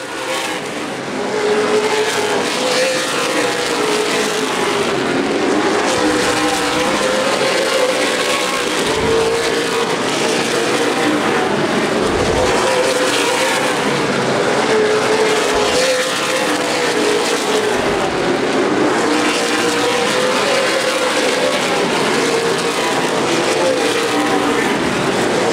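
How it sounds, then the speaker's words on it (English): CRA Super Series stock cars racing in the 2011 Redbud 300 at Anderson Speedway, a packed group of engines roaring continuously and loud, with pitch rising and falling as the cars pass nose to tail. "So another four car grouping racing nose to tail for position."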